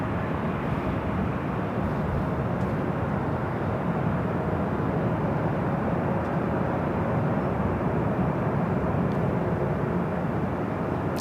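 Frontier Airbus A321 in Wolverine livery roaring down runway 24 left at LAX on takeoff, a steady broadband jet rumble that stays loud and constant throughout with no voices.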